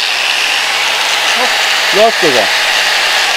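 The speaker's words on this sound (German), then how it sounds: "900 Watt Flex. Gerade mit einer Schleifscheibe drauf." A 900-watt Flex angle grinder fitted with a grinding disc runs steadily off a portable power station, giving a continuous whining hiss while someone speaks briefly over it.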